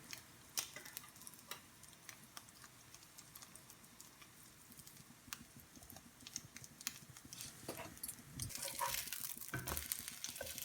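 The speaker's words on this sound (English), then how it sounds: "you just keep cooking until you are satisfied with the colour of your French toast" French toast frying in a pan, a faint, steady sizzle dotted with light crackles and ticks that grows a little louder and busier toward the end, and no one speaking.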